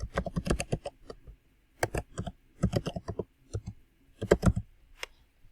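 Fingers tap out an email address on a computer keyboard in quick close clusters of crisp key clicks, separated by short pauses, with no voices.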